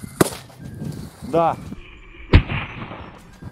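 Powerful firecrackers blast on ice, two sharp, loud cracks about two seconds apart, with a short spoken reply between them.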